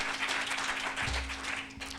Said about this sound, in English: So please give them a round of applause for their support.